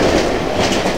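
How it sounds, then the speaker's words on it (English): A train rumbles past in the horror video game Cry of Fear, a loud, steady, close roar with rhythmic clickety-clack from the wheels on the rails, filling the whole second with no speech. "How long is this train?"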